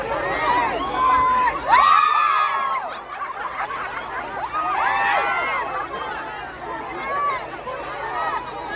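A large crowd at an outdoor political speech event cheers, shouts and laughs in swelling waves, with overlapping excited voices carrying loud and close, rising and falling throughout.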